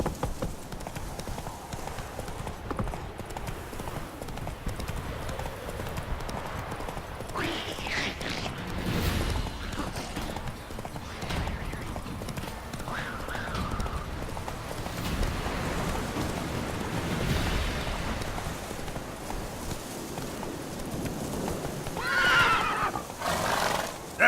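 Roach the horse gallops in The Witcher 3, with steady rhythmic hoofbeats running throughout, several whinnies breaking through, and a rushing rain-like background wash, close and fairly loud.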